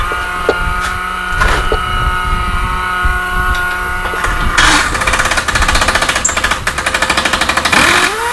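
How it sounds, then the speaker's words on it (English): A worn, used impact wrench runs on its own in a workshop, giving loud rapid rattling hammering that grows denser and more intense in the second half, over a steady mechanical drone. "since this is a used impact wrench, it tends to run on its own"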